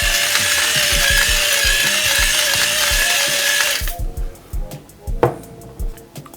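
Ratcheting crunch of a pepper grinder cracking black pepper over alligator stir fry, a fast clicking grind that stops partway through, followed by a few softer clicks and handling sounds, close up.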